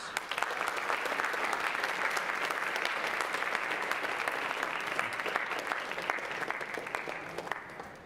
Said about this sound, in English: Students, please give your parents and families a round of applause